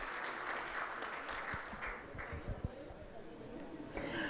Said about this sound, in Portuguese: uma salva de palmas a Ana Cristina.